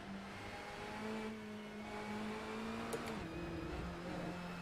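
In a racing video game, a race car engine drones at a steady pitch with slight shifts as it revs, moderately loud and sustained throughout, with no voices over it.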